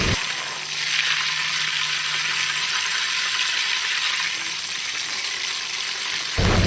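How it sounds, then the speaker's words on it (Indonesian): Chili peppers frying in hot oil, giving a loud, steady broadband sizzle and crackle that runs unbroken for several seconds and then cuts off abruptly. "Lanjut aku mau goreng juga cabai-cabeannya."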